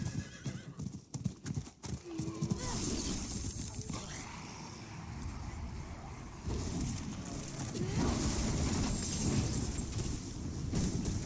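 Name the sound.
horse galloping in video game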